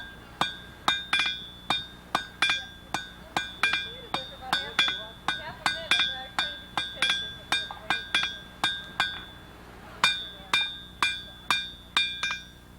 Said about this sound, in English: I'm going to go over to the anvil now. Put a point on this nail.